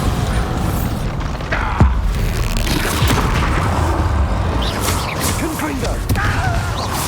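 Blasting spell explosions in the video game Hogwarts Legacy, several booming hits and crashes scattered over dense combat noise with whooshes and impacts, plus voices shouting during the fight.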